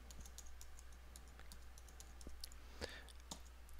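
Someone types a user ID and password on a computer keyboard, with soft, irregular key clicks over a low background hum and no speech.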